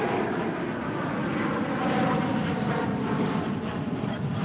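An Air France heavy jet taking off at an airport: a steady, full-bodied roar of jet engines, loud and continuous throughout, with no voices.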